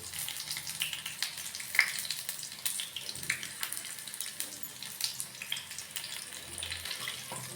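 Bok flower (sesbania) fritters frying in oil over a medium flame, a steady soft crackling sizzle with faint bubbling that runs throughout, with no talking.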